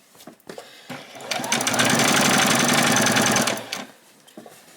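A sewing machine stitches gathering rows on a doll's dress, a close, steady rapid rattle that ramps up, runs for about three seconds and then stops, with faint handling sounds before and after.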